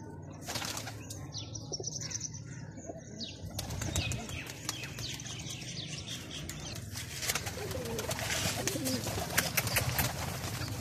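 Pigeons on a rooftop in Pakistan, a stout, puffed-up show breed, flap their wings repeatedly in bursts and coo among scattered chirps, close and moderately loud over a steady outdoor background.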